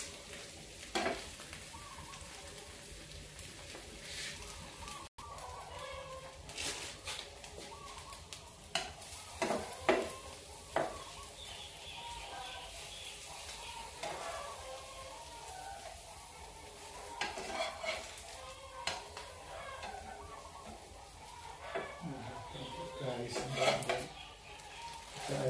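Freshwater shrimp omelette sizzling in hot oil in a pan, with steady frying hiss, a utensil stirring and occasional metallic clinks against the pan, close and fairly quiet throughout.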